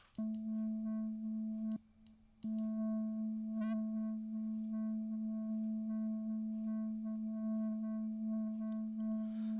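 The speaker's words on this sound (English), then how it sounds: "So this is basically a steady sine wave." A steady, pure sine tone from a VCV Rack software modular synth hums continuously at a low pitch. It cuts out briefly twice near the start, and faint clicks and chirps sit underneath.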